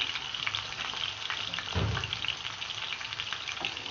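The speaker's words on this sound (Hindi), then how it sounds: "तो अब मैं इसे भून लूँगी बहुत अच्छी तरह से।" Mutton frying in oil in a karahi, giving a steady close sizzle and crackle with a brief scraping stir partway through.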